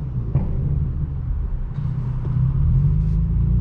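A straight-piped BMW M4 F82 inline-six rumbles low and steady from inside the car while driving, with a few faint pops and raspy bursts on downshifts.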